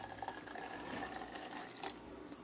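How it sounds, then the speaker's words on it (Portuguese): Water is poured from a four-litre supply into a container for making tangerine-peel soap, a steady splashing fill that runs continuously and close for about two seconds with no talk. "Aqui eu tenho 4 litros de água, vou colocar um pouco, metade."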